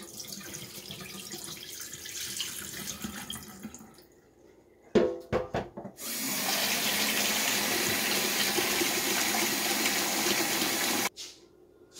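Water runs and splashes while corn grits are rinsed in a strainer, first a softer flow, then a brief pause with clatter, then a strong steady gush that cuts off abruptly.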